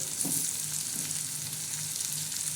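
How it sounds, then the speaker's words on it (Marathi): Sprouted bean usal with turmeric and salt sizzles steadily in a pan, a constant close frying hiss with a couple of soft stirring scrapes and no voices. "तर हे आपण चांगलं परतून घेणार आहोत"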